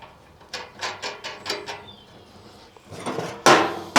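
A bolt is fitted and tightened on a wheelbarrow wheel: a run of quick metallic clicks and ratcheting taps, then a couple of louder clanks near the end, close up with no talk.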